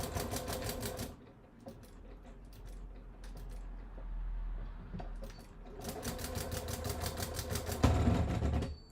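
Domestic sewing machine stitching a bulky bag gusset with binding, rapid rhythmic mechanical stitching that starts and stops in bursts, with a quieter low hum and handling sounds in the pauses.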